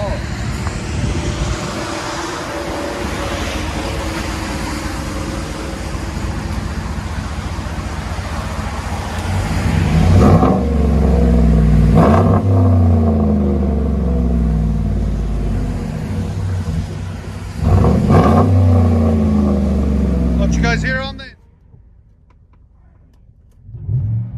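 A deep Chevy/GMC 5.3L V8 truck exhaust rumble heard from inside the cab, swelling as it revs a few times, then cutting off abruptly near the end.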